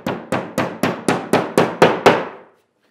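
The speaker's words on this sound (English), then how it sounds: "we'll go ahead and sink the nail" Eight sharp hammer blows drive a nail into drywall sheetrock, struck at a steady even rhythm about a third of a second apart, each loud crack ringing briefly before the next, then silence.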